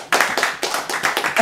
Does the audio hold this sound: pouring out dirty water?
no